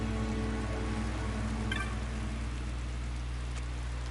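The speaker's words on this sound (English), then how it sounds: "This rain, do the gods weep?" Rain falling in the Final Fantasy XII video game, a steady, soft hiss of rainfall that stays even throughout with no voices.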